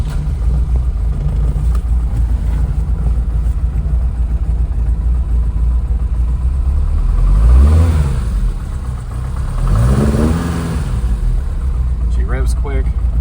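A mechanically rebuilt 1977 Ford Escort RS2000 Mk2 rally car with a 2.0L Pinto engine and five-speed gearbox idles with a rough, throbbing note. It gives two quick, sharp revs that rise and drop back, and a short raspy burst closes.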